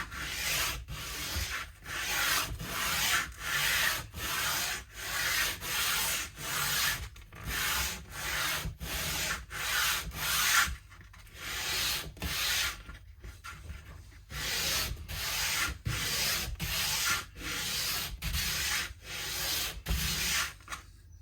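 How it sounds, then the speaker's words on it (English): A sanding block rubs back and forth over the wood of a Rally Big Apple jazz hollow body guitar in steady rhythmic strokes, continuing for a long stretch with a few short pauses. "let's put up this sanding block, and we'll kind of work down the base end a bit heavier"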